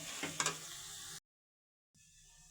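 Ginger garlic paste stirred with vegetables in a pan for veg kurma: quiet sizzling with a couple of scraping clacks from a spoon early on, then a sudden cut to silence before a faint hiss returns.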